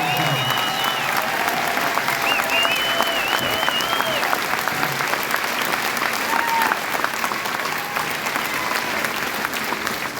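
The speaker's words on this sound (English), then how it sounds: "I want to give a big round of applause for those hard workers behind that have done this" An outdoor rally crowd for a trucker convoy applauds steadily, dense clapping mixed with cheers and whistles, while voices shout over the noise throughout.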